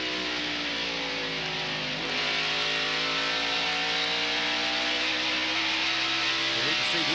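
NASCAR stock car engines roar at Bristol Motor Speedway during the 1993 Bud 500, a dense, sustained drone whose pitch sweeps as cars pass, with a louder surge partway through.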